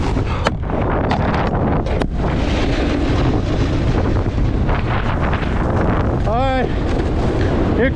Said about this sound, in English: It's a little windy, uphill wind